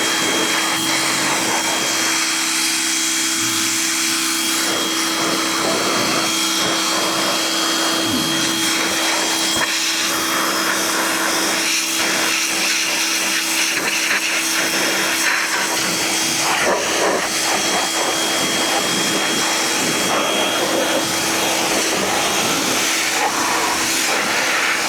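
Pressure washer spraying down a Farmall B tractor, a steady, loud hissing rush of water that runs without a break, with a faint tonal whine underneath.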